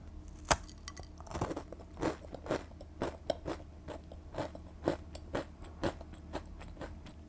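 Repeated crisp bites and crunchy chewing on a vanilla pecan protein scone, close and dry, with steady mouthfuls landing roughly every half second and no talking.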